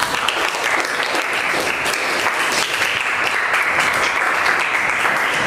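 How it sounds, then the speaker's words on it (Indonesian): Steady, dense applause from a classroom group clapping for a presenter during an academic supervision coaching session, continuous and fairly loud throughout with no pauses. "Beri aplaus untuk Bapak."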